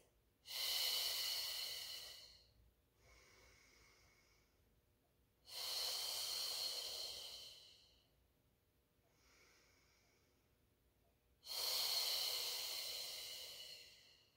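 Slow, controlled breaths during a Pilates mat exercise in a garage gym: three long, loud, airy exhales spaced evenly, each followed by a fainter, shorter breath.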